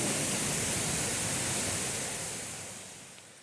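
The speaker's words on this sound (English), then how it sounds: "when you come to a waterfall like that, it seems like there's a lot of water rushing over" Water rushing over Cowshed Falls, heard from the top of the falls as a dense, steady broadband roar that fades slightly toward the end.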